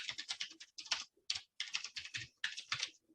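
Rapid bursts of keystrokes on a computer keyboard, typed in uneven clusters with short pauses between, close and fairly quiet, with no voices.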